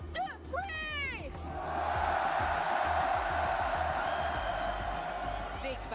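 Crowd cheering at the Fortnite Global Championship 2025, a large arena audience roaring and whooping into a sustained swell, with an excited announcer's voice over the noise at the start.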